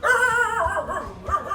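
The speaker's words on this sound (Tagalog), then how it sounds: "Tahol-tahol." A dog barks and whimpers close by under a house, giving a few short yips with whiny tones in between at a moderate level.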